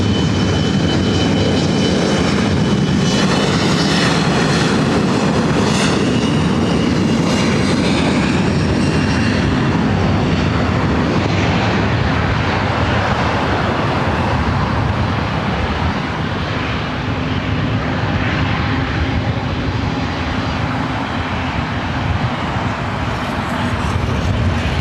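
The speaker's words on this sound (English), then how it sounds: "Condor in the blue stripe livery heading to actually be the next heavy arrival here on the north side" A Condor heavy jet airliner in blue stripe livery arrives on the north side runway at LAX, its engines roaring loudly and steadily throughout with a broad, sustained rumble and faint traffic noise beneath.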